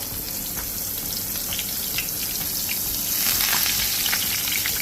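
Pearl spot fish (karimeen) frying in hot oil, a steady dense sizzle with crackling pops that swells louder toward the end, heard close with no voices.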